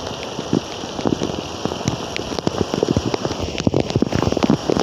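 Heavy rain pours down on Dhaka city, a dense, continuous hiss broken by close, sharp drop impacts, as if rain strikes right by a phone held out in the downpour; no voices.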